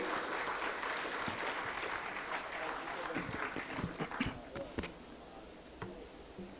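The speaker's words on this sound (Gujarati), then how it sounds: "એ માટે પૂજ્ય ગુરુને તાળીઓથી વધાવશું" An audience at a religious discourse claps for the guru, a dense burst of applause that thins out into scattered individual claps, while someone speaks faintly beneath.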